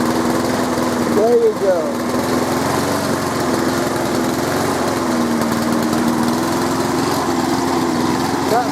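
A small-engine saw, used for gardening work, runs at a steady high-pitched drone with a slight waver in pitch, loud and close throughout, while a voice briefly speaks over it.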